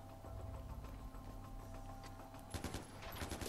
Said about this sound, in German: Der hat mich hier angeschossen gerade